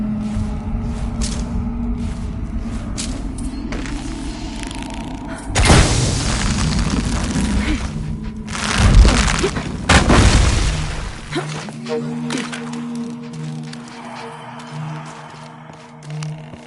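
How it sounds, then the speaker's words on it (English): An explosion in the video game Shadow of the Tomb Raider bursts out as a loud, sustained boom and rumble over ongoing game ambience, with a second heavy burst a few seconds later before a droning hum takes over. "Have to create an explosion."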